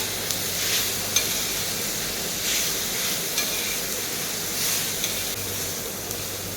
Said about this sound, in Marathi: अशा प्रकारे छान मिक्स करत कारलं भाजून घेऊयात थोड्या थोड्या वेळानं हलवत राहा